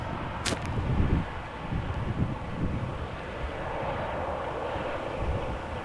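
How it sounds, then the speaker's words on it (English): A Bombardier Challenger business jet at Amsterdam Schiphol, a broad roaring rush with a sharp whip-like crack near the start, rising and then holding at a steady level. "So yeah, indeed a Bombardier Challenger."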